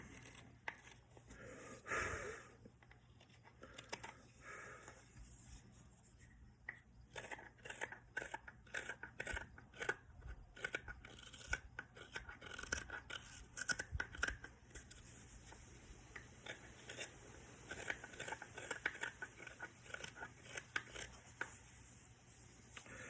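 A Mora hook knife carving a wooden spoon, quiet close scraping and slicing strokes repeating in an irregular rhythm, with soft rustles between cuts and no voices.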